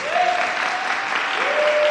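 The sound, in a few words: audience applause for graduates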